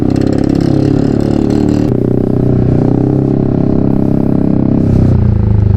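A Yamaha Aerox scooter fitted with a Krace Ultra aftermarket exhaust rides along with a loud, close, continuous engine and exhaust drone, with no talking.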